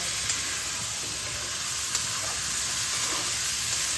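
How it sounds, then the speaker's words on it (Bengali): Soaked chana dal frying with spices and taro (kochu) in a pan, a steady close sizzle with faint intermittent stirring scrapes throughout. "ডালটা ওই মশলার সঙ্গে ভালোভাবে কষিয়ে নিচ্ছি"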